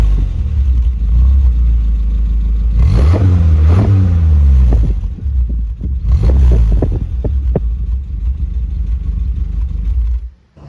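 A Triumph 1500 that sat parked for over 20 years revs loudly at idle outdoors, with two distinct rising and falling throttle blips over a steady low engine rumble.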